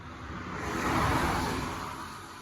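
A car on a wet, rainy road passes or drives by at roughly 45 to 50 miles per hour, a smooth broad rush of engine and tire hiss swelling to a peak midway and then easing off.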